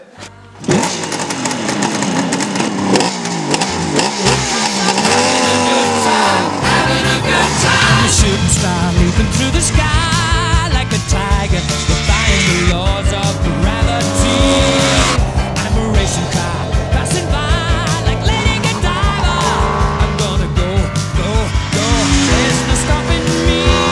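A Kawasaki H2B motorcycle engine starts and revs loudly, a raspy two-stroke howl rising and falling in steady blips, close and continuous for the whole stretch.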